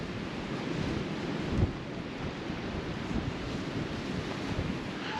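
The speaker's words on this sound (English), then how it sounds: "There is a wind picking up as we walk down." Wind gusting outdoors on a walk through a Cornish coastal village, a loud, steady buffeting roar across the microphone with no break and one brief stronger thump, with no talking.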